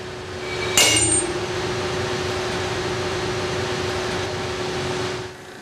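A 60,000-pound tensile strength machine pulls an aluminum scuba tank coupon apart: one sharp metallic bang, then a loud, steady mechanical hum that runs on and cuts off at the end.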